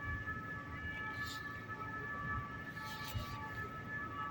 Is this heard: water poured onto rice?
no